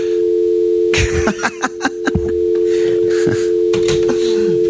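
Studio phone line with a steady dial tone humming throughout, interrupted by a burst of rapid button presses and clicks as numbers are dialed, close and loud.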